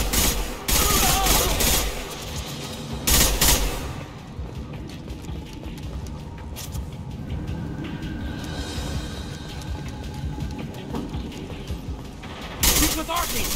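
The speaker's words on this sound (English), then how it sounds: "They've seen us! Open fire!" Heavy gunfire in Mass Effect 2 as a firefight opens, dense bursts of automatic fire with loud shots at the start and end, continuous rattling in the middle, and voices under the shooting.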